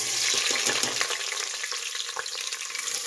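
Onions, a couple of them salted, frying in a pan for tomato pulao, giving a steady close hiss and crackle with faint stirring throughout and no voices.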